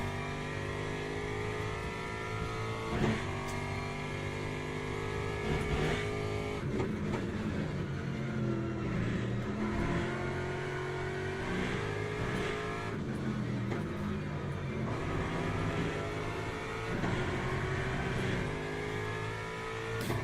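Ford Mustang GT race car in Le Mans Ultimate, its engine droning loudly and steadily with rising and falling revs and gear changes, continuous and close, no voices.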